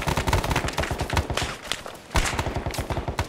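Heavy .50 caliber machine gun fire in a video game set in the Vietnam War, rapid, sustained bursts, loud and close, with a brief pause before another long burst resumes.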